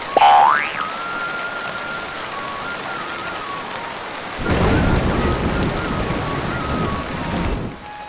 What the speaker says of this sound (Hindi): सरकार, बारिश हो रही है